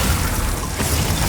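Glacius ice spell cast in the Hogwarts Legacy video game, a short dense burst of crackling, shattering noise that fills the whole moment, loud and close.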